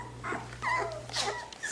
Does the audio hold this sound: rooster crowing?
no